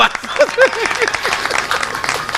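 Audience applause at a Hindi poetry gathering, a steady wash of clapping with a voice briefly speaking over the start before the clapping carries on alone.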